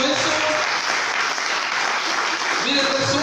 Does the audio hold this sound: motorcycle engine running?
no